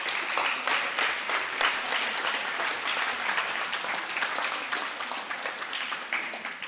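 A school audience at a student awards event applauds the student council with steady, dense clapping that holds for several seconds without a break.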